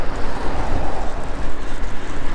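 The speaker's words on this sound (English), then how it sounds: "Man, it's so windy." Strong wind roars steadily against the microphone during a night e-bike ride through countryside, a dense, rumbling rush with gusty low buffeting throughout and no talking.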